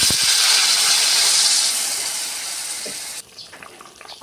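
Water poured into a pan of sizzling spices, chilli, salt and onion paste for a hilsa fish curry with green banana and potato: a loud steady hiss and gush that fades, then drops to a quieter simmer with faint clinks.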